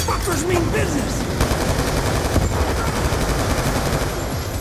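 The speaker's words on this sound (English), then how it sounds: "this is gonna shoot. Okay, they have gun turrets with them." Gun turrets opening up in a Black Ops 2 firefight, a steady, loud wash of rapid gunfire and battle noise with no letup, voices faintly mixed in.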